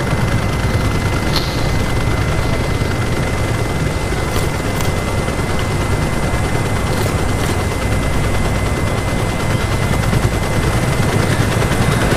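Continuous dense gunfire and a helicopter's steady rotor drone from the game Call of Duty: Black Ops Cold War, loud and sustained throughout with sharp bursts layered over the engine rumble.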